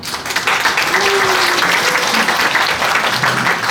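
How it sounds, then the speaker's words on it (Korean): Audience applause at a book launch event, sustained even clapping from a crowd filling the room, steady and moderately loud, with a brief faint tone heard beneath. "박수로 함께 하겠습니다"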